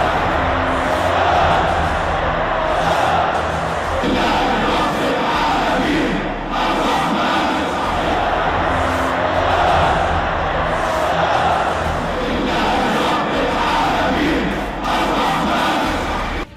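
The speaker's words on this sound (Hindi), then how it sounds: "भीड़ ने अल्लाहू अकबर के नारे लगाए" A large crowd chants loudly and continuously, voices massed together in repeated rhythmic cries of Allahu Akbar as freed prisoners are celebrated and carried on shoulders by supporters.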